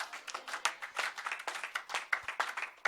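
A church congregation claps and applauds together at a sermon's close, a dense, lively patter of many hands close by with no talk over it.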